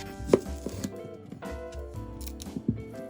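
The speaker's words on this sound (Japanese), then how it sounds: "玉ねぎ2個 300g は芯を取りみじん切りにします" A knife mincing two cored onions on a cutting board for a pumpkin and chicken keema curry, heard as irregular close taps and crisp chops over a faint kitchen background.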